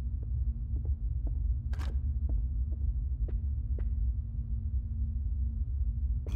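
A faint heartbeat pulses in a horror video game, soft low thumps at irregular intervals over a constant low hum, with a few brief clicks scattered between them.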